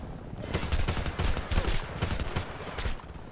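Dense, sustained gunfire in the Homefront video game, a rapid fusillade of overlapping shots and automatic bursts filling the whole stretch at steady loudness with no talk.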